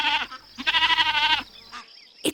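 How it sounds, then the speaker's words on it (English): Goat on a farm bleating close by, a short quavering cry followed by a longer wavering bleat, with softer calls trailing after. "And look, it's a goat"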